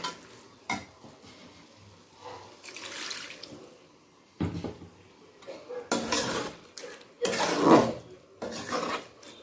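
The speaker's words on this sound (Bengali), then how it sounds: "এবার এতে আমি একটু জল অ্যাড করব।" Water is poured into a pan of cooking prawn and banana flower curry, Bengali chingri mocha ghonto, making several separate hissing, splashing sizzles of rising loudness between quieter gaps, with no voices.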